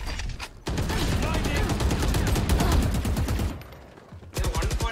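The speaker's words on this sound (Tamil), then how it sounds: "நான் லூசு தனமா சுட்டேன்" Rapid automatic gunfire from the Valorant video game rattles in a dense, loud burst lasting several seconds, followed by a shorter burst after a brief pause.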